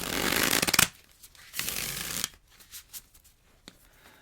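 Tarot cards being shuffled in two loud riffling bursts, followed by softer scattered card taps and handling sounds, close up with no talking.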